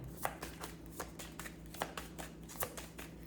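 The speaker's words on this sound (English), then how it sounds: "So I'm just shuffling the cards." Tarot cards being shuffled in quick, crisp riffles and taps, repeating at a steady rhythm, close and fairly quiet.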